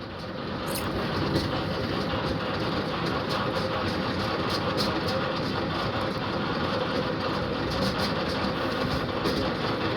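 A vehicle engine left idling after being started, a steady, dense low rumble with broadband noise that holds constant and fairly close for the whole stretch, with no talk over it.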